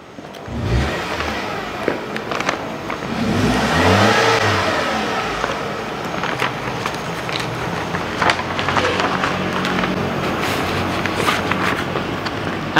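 A Mitsubishi car engine revs up loudly near the start, then settles into a steady, close running drone for the rest of the stretch.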